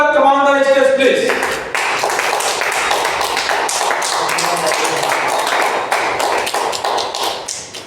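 An audience claps loudly, welcoming a speaker to the stage at a Safe Shop venue event with Ayush Kumar, the dense applause running steadily and tapering slightly at the end after a brief announcer's voice at the start.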